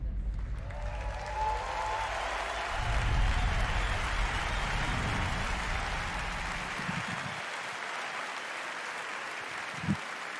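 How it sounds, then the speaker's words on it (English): Sustained applause from a live podcast audience during E3 and a Bethesda reaction, a dense patter of clapping that gradually fades out. "Another round of applause"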